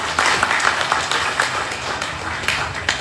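An audience at an official ceremony in Badung, Bali claps for the regent, with moderately loud, uneven applause from a modest crowd, individual hand claps standing out near the listener.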